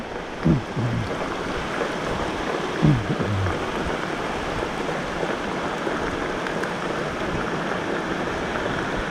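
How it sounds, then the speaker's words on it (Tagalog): Heavy rain pours steadily on a forest trail near a waterfall, a dense, loud, continuous wash of noise with a couple of brief low thumps early on. "Lakas ng ulan."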